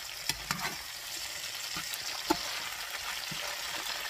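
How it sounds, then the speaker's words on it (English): Steady sizzle of green beans stir-frying in olive oil in a hot pan, with a few sharp clacks of a utensil stirring and scraping. "I'm basically just stir frying them in olive oil at this point."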